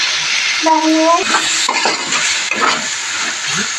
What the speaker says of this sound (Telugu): అడుగు అంటకుండా కాస్త మసాలా చక్కగా వేయించాలి